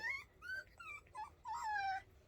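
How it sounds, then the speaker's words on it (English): Puppies whimper and yelp nearby in a series of short, high, wavering cries, some drawn out, with quiet gaps between them. "As you can hear, we have puppies."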